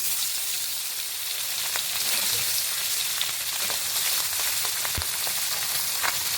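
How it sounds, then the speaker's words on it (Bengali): Tengra fish slipping into hot oil in a wok, setting off a loud, continuous sizzle with scattered crackles and pops, plus one sharp knock near the end. "এবার মাছগুলিকে কড়াই তেলের মধ্যে ছেড়ে দিচ্ছি"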